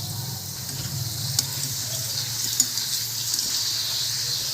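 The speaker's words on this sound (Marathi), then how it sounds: "आता तेल तापलाय आहे आता आपण पापड तळून घेऊया" Small papad frying in hot oil, a steady soft sizzle and bubbling hiss running evenly throughout with a couple of faint pops, fairly quiet and unaccompanied.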